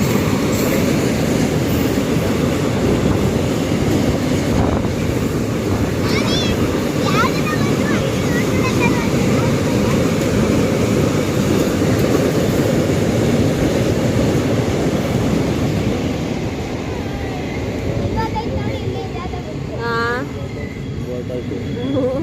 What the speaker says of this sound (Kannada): ಸೊ ಫೈನಲಿ ಫ್ರೆಂಡ್ಸ್, ನಾವು ರೈಲ್ವೆ ಸ್ಟೇಷನ್ನ ರೀಚ್ ಆಗಿದ್ದೀವಿ. ಸೊ ಟ್ರೈನ್ ಇನ್ನೇನು ಬರುತ್ತೆ